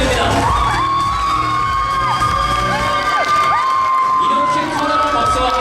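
A large indoor crowd at a 2024 LifeWave Korea grand opening at L Tower cheers loudly, with whoops and shouts over a sustained roar that hardly pauses throughout.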